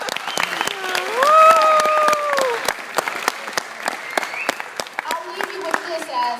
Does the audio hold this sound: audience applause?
yes